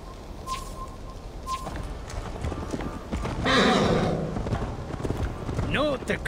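A horse in Assassin's Creed Valhalla gallops with rhythmic hoofbeats, and a loud neigh rises near the end. Bird calls come through early and voices talk over the hooves.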